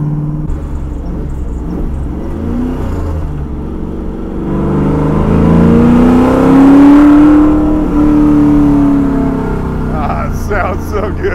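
A hand-built 1970 Ford Mustang with a 625 hp engine is being driven: a steady, deep rumble swells into a louder rising rev midway, then settles back, heard close by from the car.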